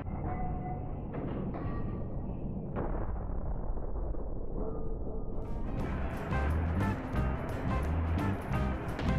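A bomb bursts in midair during a Heroes and Generals World War II battle, heard as several heavy booming blasts over rumbling combat noise, with the densest, loudest crashes in the final seconds.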